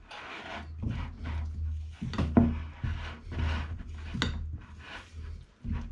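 Blueberry dough being mixed in a bowl after more flour is added, giving soft, repeated scraping and rubbing strokes of moderate loudness in an uneven rhythm, with no talking.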